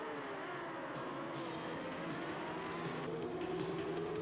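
Racing motorcycles, including a Suzuki GSX-R 1000, roar off the line at the start of a WERA national endurance race at Talladega, a dense blur of engines at some distance rising and shifting as the pack accelerates.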